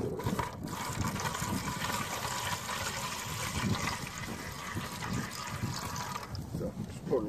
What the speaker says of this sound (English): So just pour a little water in the pan.